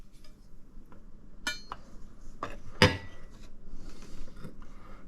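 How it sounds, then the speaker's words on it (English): A steel knife is turned over on a HORL or Tumbler rolling knife sharpener, giving a few sharp metallic clinks and taps, with one louder clack in the middle against a quiet background. "Let's go ahead and flip the knife over."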